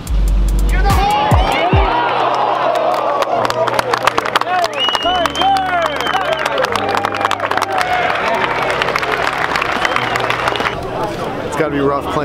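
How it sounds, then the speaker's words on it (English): A large golf tournament crowd following Tiger Woods yells and cheers his name, loud, dense shouting and babble with scattered claps and calls close around. "everyone's just yelling Tiger's name"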